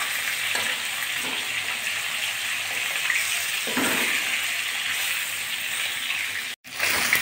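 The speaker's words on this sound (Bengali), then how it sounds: "এক এক করে দিয়ে মাছটাকে প্রথমে আমি ভেজে নেব লাল লাল করে" Tilapia pieces fry in hot oil in a wok with a continuous close sizzle and crackle, punctuated by a few soft handling knocks and a short gap near the end, with no voices.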